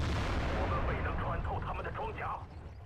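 In the World of Tanks video game, a heavy tank cannon fires at a KV-3, producing a loud booming blast that trails into a rumbling decay while someone speaks over it.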